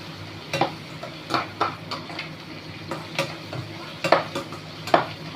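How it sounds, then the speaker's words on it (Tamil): Neem flowers are sautéed in oil, a spoon scraping and stirring the pan in repeated clinking strokes over a soft, steady sizzle, with no talking. "இந்த மாதிரி ஒரு கைப்பிடி அளவு வேப்பம் பூவை சேர்த்து நம்ம நல்லா வதக்கி விடலாம்."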